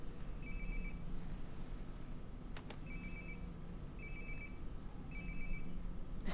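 A mobile phone rings in the video game Life Is Strange: Before the Storm, a faint, repeating electronic ringtone in short evenly spaced bursts over a low steady background hum, with no talk.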